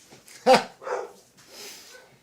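A dog downstairs in a home barks three times at a moderate distance, a sharp bark followed by two softer, drawn-out yelps with short pauses between them.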